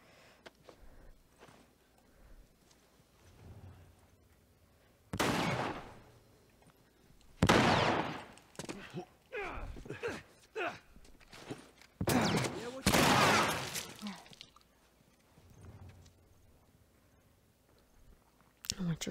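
Gunfire in The Last of Us Remastered, with several separate bursts of shots spread through the stretch, some loud and near, others quieter, mixed with game sounds and occasional talk.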